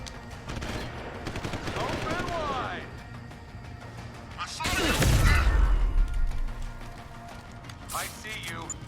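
Gunshots in Deus Ex: Human Revolution sound as muffled bursts under game noise, then one heavy booming blast with a deep rumbling tail midway and a sharper crack near the end.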